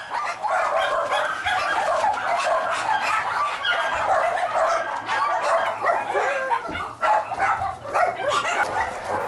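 Several dogs bark and yip nonstop at a run-down dog shelter where volunteers clean soiled pens, a loud, overlapping chorus of barking close by.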